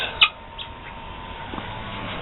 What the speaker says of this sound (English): Those are some of the chickens.